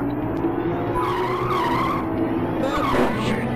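Racing cars in the Amiga game Wheels On Fire skid and crash, with continuous engine roar and squealing tyres through a dense, loud mix, and no speech.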